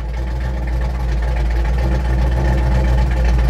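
A car engine fitted with Holley Sniper EFI idles steadily and loudly up close, a constant low rumble with a regular pulsing beat throughout and no voices.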